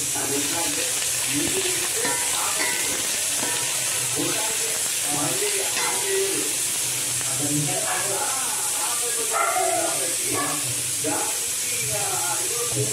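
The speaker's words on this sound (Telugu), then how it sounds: "బాగా నూనెలో వేసుకోవాలి. మసాలాలన్నీ బాగా వేగాలి." Spices fry in oil for mutton dum biryani, giving a steady sizzling hiss while a person talks over it.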